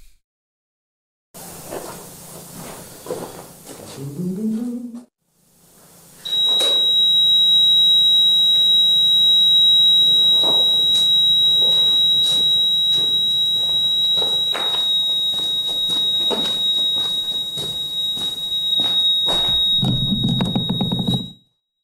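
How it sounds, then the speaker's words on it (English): A motion detector alarm twenty feet underground emits a loud, continuous high-pitched electronic tone that holds steady for about fifteen seconds, with scattered knocks and rustles beneath it and a brief gap before it starts. "What you're hearing now is the motion detector going off."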